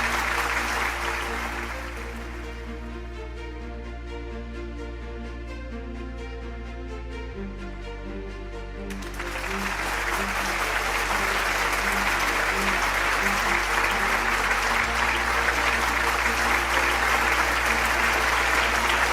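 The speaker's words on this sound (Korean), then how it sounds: "박영규 목사님과 도봉 스님을 따뜻한 박수로 맞이해 주시면 감사하겠습니다" A church-hall audience at a peace festival claps warmly to welcome a pastor and a Buddhist monk, with steady sustained applause that swells and continues with music playing underneath.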